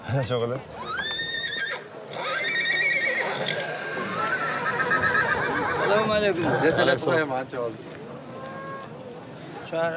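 Horses in Kyrgyzstan neigh and whinny repeatedly, with several loud, close calls overlapping, along with hoof sounds and movement.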